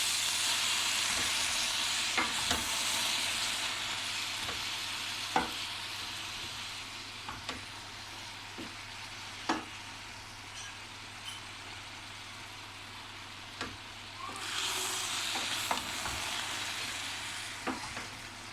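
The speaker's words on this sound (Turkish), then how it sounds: "Tavaya e, koydum soğan, soğanlarımı kavurdum." Onions fry in a pan with a broad, steady hiss that lasts throughout, with occasional light clicks and scrapes of a utensil. The sizzle swells louder near the end.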